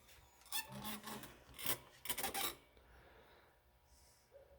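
Pliers scrape and rasp around the edge of a metal part inside a GE microwave, several close, sharp grinding bursts followed by quieter rustling.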